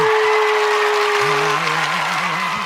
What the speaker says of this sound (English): I think we need a round of applause for this one, ladies and gentlemen.